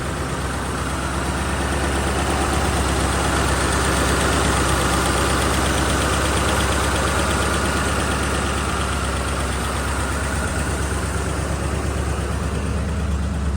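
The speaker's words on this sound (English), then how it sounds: "It's running on fast idle now to warm up." A one-owner 1925 Cadillac V63 engine runs on fast idle to warm up, a loud, steady, even mechanical drone that holds without a break and with no voices.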